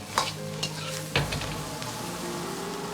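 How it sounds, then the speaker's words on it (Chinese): Pan-fried river shrimp stir-fried in a wok with celery and peppers: a close, steady sizzle broken by a few quick metallic spatula scrapes and clanks, with no voices. "炒出香辣味后，倒入煎好的河虾， 翻炒均匀"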